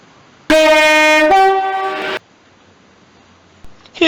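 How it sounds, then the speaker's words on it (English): A Class 170 Turbostar CrossCountry train approaching Shrewsbury Station sounds a loud two-tone horn, one sustained note stepping down to a second, close by, then fading to quiet station ambience. "Class 170 Turbostar Cross Country service can now be seen approaching Shrewsbury Station."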